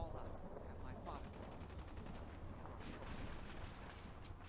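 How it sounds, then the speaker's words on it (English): Gunfire in the video game Fallout 4, a dense run of rapid shots and bursts layered over a loud, steady rumble through the whole stretch, with some talk mixed in. "Oh, they're like shooting at us."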